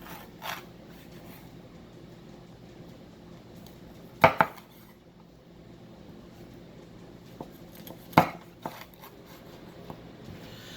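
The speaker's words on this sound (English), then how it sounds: "cut the peppers." A knife cuts fresh jalapeno peppers on a board in a quiet kitchen, giving two crisp clacks spaced a few seconds apart with a few softer taps between them and low background hum.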